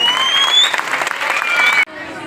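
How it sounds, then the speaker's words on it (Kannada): Applause from a crowd of shopkeepers at a gathering, a brief dense burst of clapping close by with voices mixed in, cutting off abruptly. "ಅವ್ರಿಗೆ ಜೋರ್ ಚಪ್ಪಾಳೆ ತಟ್ರಿ ಎಲ್ಲ ಅಂಗಡಿಯವ್ರು"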